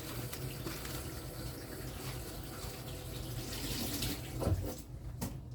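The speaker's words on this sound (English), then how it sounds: "I'm just going to quickly give them a rinse under the tap." Vegetables with their outer leaves removed are rinsed under a running kitchen tap, a steady, close splashing stream that shifts a little as they are turned, then the flow tapers off near the end.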